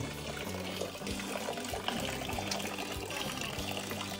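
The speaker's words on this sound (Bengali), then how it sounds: "এটা হচ্ছে পুরো স্প্রিং ওয়াটার ন্যাচারাল" Natural spring water flowing in the Garden of Caves in Meghalaya, a steady close trickle and gurgle of running water with small splashes, no one speaking.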